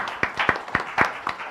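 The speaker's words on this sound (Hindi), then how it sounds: "एक बार जोरदार तालियां तो इनके लिए बनती" A few scattered, sparse claps from an audience at an organisation's meeting, sounding as separate distinct hand claps rather than full applause.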